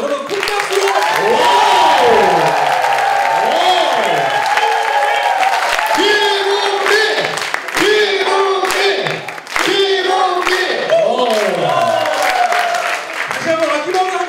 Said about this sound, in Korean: CEO 스위트의 김은미 마스터, 여러분 큰 박수로!